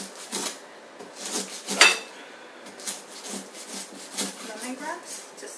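A knife rough-chops lemongrass on a cutting board in a kitchen, a series of irregular sharp taps up close, several of them louder than the rest, with a person talking over the cutting.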